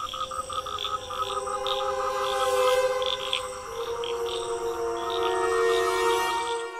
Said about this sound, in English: This time, millions of frogs came out of the river.